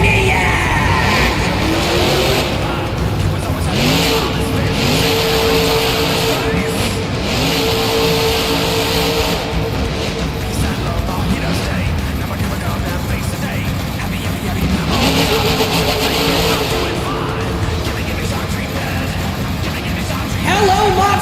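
Scott Thomas's all-new Electro-Maniac monster truck making its debut at an arena show in Toledo, Ohio, its engine roaring loud and steady throughout, with shouting and crowd noise mixed in.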